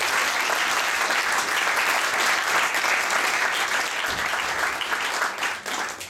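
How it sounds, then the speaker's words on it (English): Wedding guests applaud the stag party during a best man's speech at a wedding reception, a dense, steady wash of clapping from a sizeable crowd that carries the full length before thinning slightly at the end. "let's all give our stags a round of applause for a great weekend."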